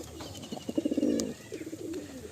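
Pigeons in a racing pigeon loft coo close by, a quick run of soft, throaty pulses followed by a shorter second phrase, with no talking.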